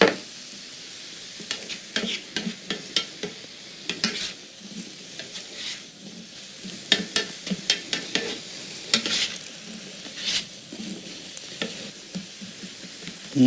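Butternut squash, mushroom and rice sizzle steadily in a pan after a splash of vegetable broth, with a soft continuous crackle broken by frequent short stirring scrapes and clicks, close up and with no talking.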